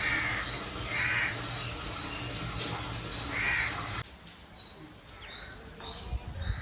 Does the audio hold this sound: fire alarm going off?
no